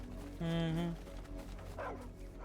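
A brown and white puppy gives a short, clear yip or bark up close, followed by a softer whine, with a quiet background hum.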